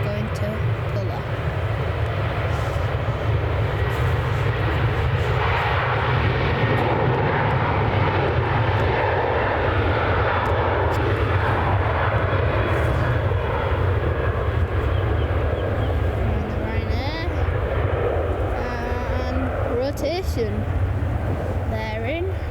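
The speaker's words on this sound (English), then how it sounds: "This is a Boeing 737." A Boeing 737 airliner taking off at Manchester Airport, a loud, continuous jet engine roar that stays strong throughout, with a person talking over it.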